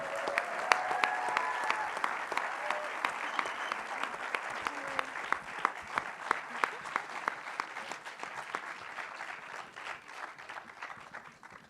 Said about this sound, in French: je vous demande d'applaudir et d'accueillir chaleureusement